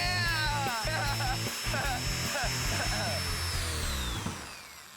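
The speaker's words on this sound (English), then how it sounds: "we're gonna make the wheels spin even faster using a drill" A power drill spins the wheels of a maxed-out toy drag racer, giving a steady high motor whine with shifting pitch that runs under excited voices for the whole stretch.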